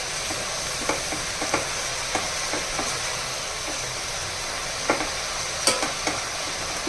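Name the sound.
coriander leaves frying and being stirred in oil in a pan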